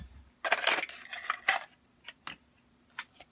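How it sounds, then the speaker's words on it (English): Light metal clinks and clatters as a small Boy Scout-type mess kit with plate, frying pan and pot is handled, a cluster of rattles followed by a few sparse taps, close and quiet. "I have a mess kit, just a little Boy Scout type kit."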